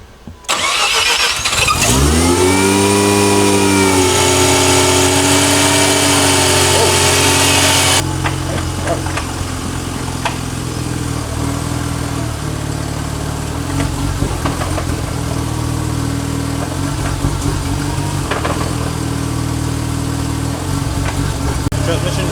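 A car engine cranks and fires on its first start after long sitting and recovery work, surging to a loud high-revving roar before settling into a steady, rough close idle, with people talking over the running engine.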